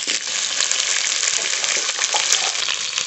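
Potatoes frying in mustard oil in a wok give off a continuous close sizzle and crackle, with faint stirring scrapes mixed in throughout.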